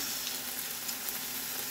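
Meat fillets sizzle and fry in a pan, a steady close crackling hiss with fine popping spatter and no voices.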